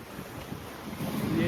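Ocean swell and waves wash steadily around a sailing boat racing offshore in the Solitaire du Figaro, with broadband wind and water noise that builds and grows louder toward the end, no voices.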